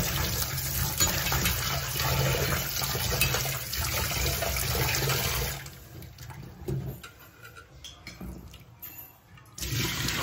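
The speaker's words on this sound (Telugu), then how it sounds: "ఇది చాలా ఫోర్స్గా వచ్చేస్తుంది పంపు" Water gushes hard from a tap as dried fish is washed: a loud, close, steady rush for about half the clip, then it drops to quieter splashing and trickling before surging again at the end.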